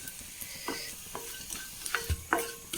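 Prawns fry in a pan with a soft, steady sizzle, broken by scattered sharp clicks and scraping stirs that grow busier toward the end; quiet and close, with no talking.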